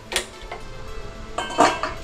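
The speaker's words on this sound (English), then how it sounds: "I'll just keep the frying pan, saucepan on the fire." A metal frying pan or saucepan is set on the stove while a crab dish is cooked, with a few sharp clanks and scrapes of cookware and utensils, close and clear with no talk.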